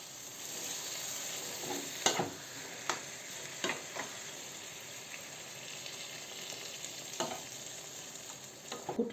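Vegetables for borscht sizzle quietly in a pan, with a steady low frying hiss broken by occasional scraping clicks from stirring.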